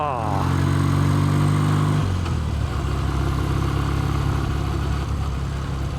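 A barn-find BSA Golden Flash motorcycle cruises on the road at around 30 to 40 mph. Its engine drones steadily and loud against heavy wind rush, with a pitch drop near the start as it shifts.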